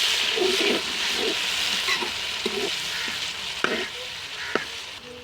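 Tomatoes and chillies hit hot oil with browned onions in a pan, giving a loud, continuous sizzle with stirring scrapes and occasional sharper ticks of a spoon against the pan.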